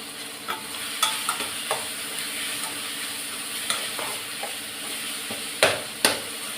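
Chopped tomatoes with salt sauté in a pan, a soft steady sizzle broken by scattered sharp clicks and taps of a utensil against the pan.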